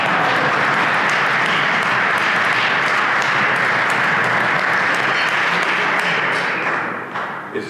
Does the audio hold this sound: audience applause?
yes